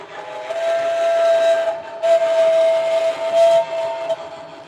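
A model railway's steam train whistle sounds in a few long sustained blasts with short breaks, loud and close, with a faint hiss underneath.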